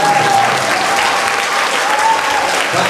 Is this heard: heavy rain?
no